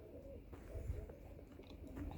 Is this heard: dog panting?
no